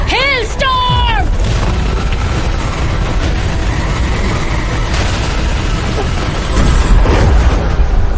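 A massive anime Hellstorm attack erupts after a brief whooshing flourish, rolling into a continuous loud roar of explosive blasts and rumbling destruction that swells even louder near the end.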